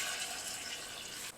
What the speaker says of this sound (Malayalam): അതിലേക്ക് നമുക്ക് കടുക് വറുത്ത് ഒഴിക്കാം.